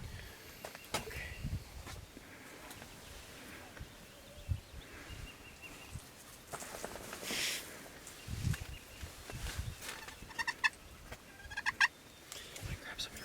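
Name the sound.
wild turkeys, toms gobbling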